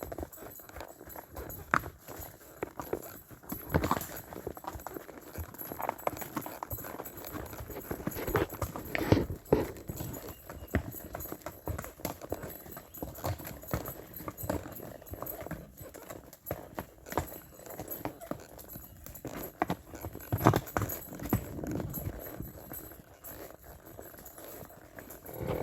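Horse hooves clip-clop at a steady walking pace along a rocky mountain trail in George Washington National Forest, close and fairly loud, with occasional faint rider talk.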